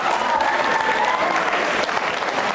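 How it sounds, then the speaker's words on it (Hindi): Loud, steady applause from a studio audience at a cow-focused quiz program in Rajasthan, filling the whole stretch as one dense, continuous wash of clapping with no break. "अरे तालियां तो बजाओ प्रीति के लिए"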